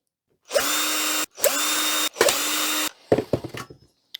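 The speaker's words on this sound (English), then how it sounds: "let's dig deeper into this main section and just keep undoing screws" A power drill removes screws from a vintage 1991 HP LaserJet 3P printer being scrapped. Three steady, loud whirring runs of about a second each are followed by a short, stuttering burst, with brief silences between them.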